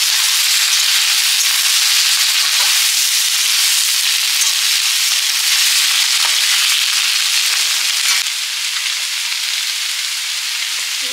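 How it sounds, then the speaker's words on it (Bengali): Soybean chunks and potato pieces fry in hot oil, giving a loud, steady sizzle with a crackling hiss that runs the whole time, easing off slightly near the end. "তেল দিয়ে দিচ্ছি। সয়াবিন আলুগুলো ভেজে নিচ্ছি।"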